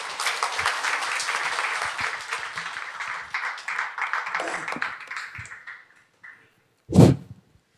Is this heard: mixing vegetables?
no